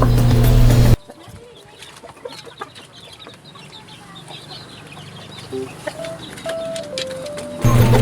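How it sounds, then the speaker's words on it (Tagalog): Chickens cluck intermittently in the background of a small backyard, soft and fairly close, with a few brief louder calls and no one speaking. "Malalaki din po itong manok"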